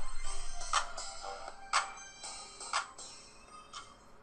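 A phone's text message ringtone plays a short repeating melodic figure, with bright tonal bursts roughly once a second over four seconds, fairly quiet and alone with no talk.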